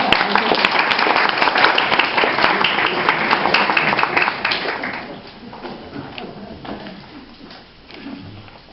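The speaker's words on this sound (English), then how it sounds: "Let's give our cast an encouraging hand" An outdoor theatre audience in Quail Park, Lynnwood, Washington claps loudly and steadily for the cast, then the applause fades down to scattered, quieter clapping.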